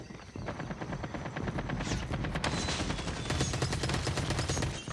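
Rapid automatic gunfire from the Call of Duty Mobile video game on a tiny map, dense bursts of repeated shots rattling continuously at close range, loud and sustained with no talk over it.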